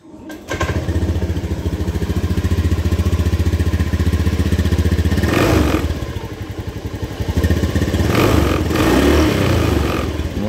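A motorcycle engine runs loud and close with a steady pulsing idle, rising briefly in two revs and dipping between them, no voices over it.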